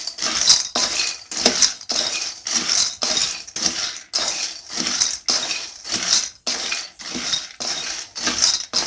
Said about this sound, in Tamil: இப்போது வேர்க்கடலையை வறுத்து எடுத்துக்கலாம். எண்ணெய் ஊற்றாமல் அப்படியே லைட்டாக வறுத்தெடுத்துருவேன்.